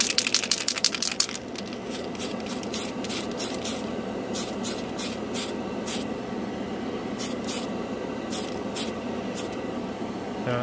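A Tamiya Metal Colors spray can held over a semi-gloss black primed part: a hissing spray runs throughout, with a burst of rapid can rattling at the start and further clusters of sharp ball-rattle clicks.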